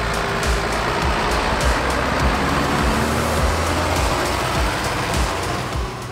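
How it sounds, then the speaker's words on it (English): Steady, loud drone of a John Deere 7810, a 1990s 175-horsepower six-cylinder farm tractor, working close by during a maize harvest. The engine note holds even throughout, with a rough low rumble and no voices. "The 175 horsepower six-cylinder tractors from the 90s, with their trademark earthy sound"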